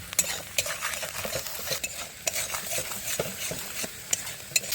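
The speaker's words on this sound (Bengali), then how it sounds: "এবার এর মধ্যে দিয়ে দেবো একটু ধনিয়া গুঁড়ো তারই সাথে জিরা গুঁড়ো পরিমাণে শুকনা লঙ্কা গুঁড়ো হলুদ মতো লবণ দিয়ে একটু কষিয়ে নিই হালকা" Ground coriander, cumin, dried chili and turmeric with salt being sautéed in a pan, a soft sizzle under repeated sharp scrapes and clinks of a spatula stirring at an irregular pace.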